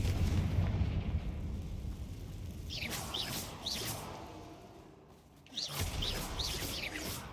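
A Confringo fire spell in the Hogwarts Legacy video game detonates with a couple of booming, crackling blasts over a low rumbling game background.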